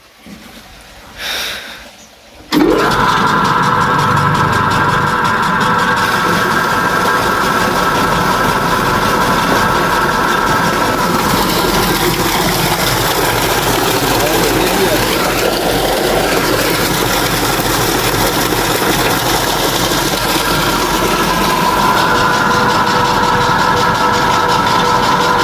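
A farm motor running a fodder chaff cutter for buffalo feed starts up with a loud bang, then drones at a steady, heavy, rumbling hum for the rest of the stretch, close and continuous.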